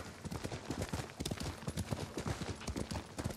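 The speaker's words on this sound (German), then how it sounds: "Ich hole mir jetzt ein Pferd." Horse hooves clip-clopping at a quick gallop in the video game Ghost of Tsushima, a dense rapid rhythm of thuds over ambient game sound, no talking.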